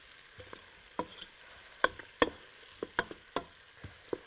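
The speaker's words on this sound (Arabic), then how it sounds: "بتدي كرمل البصلة وبتخليها تاخد لون كده مكرمل" Onions fry and caramelize with a spoonful of sugar in a pan, giving a soft continuous sizzle broken by irregular sharp clicks and scrapes of a utensil stirring against the pan, close and without speech.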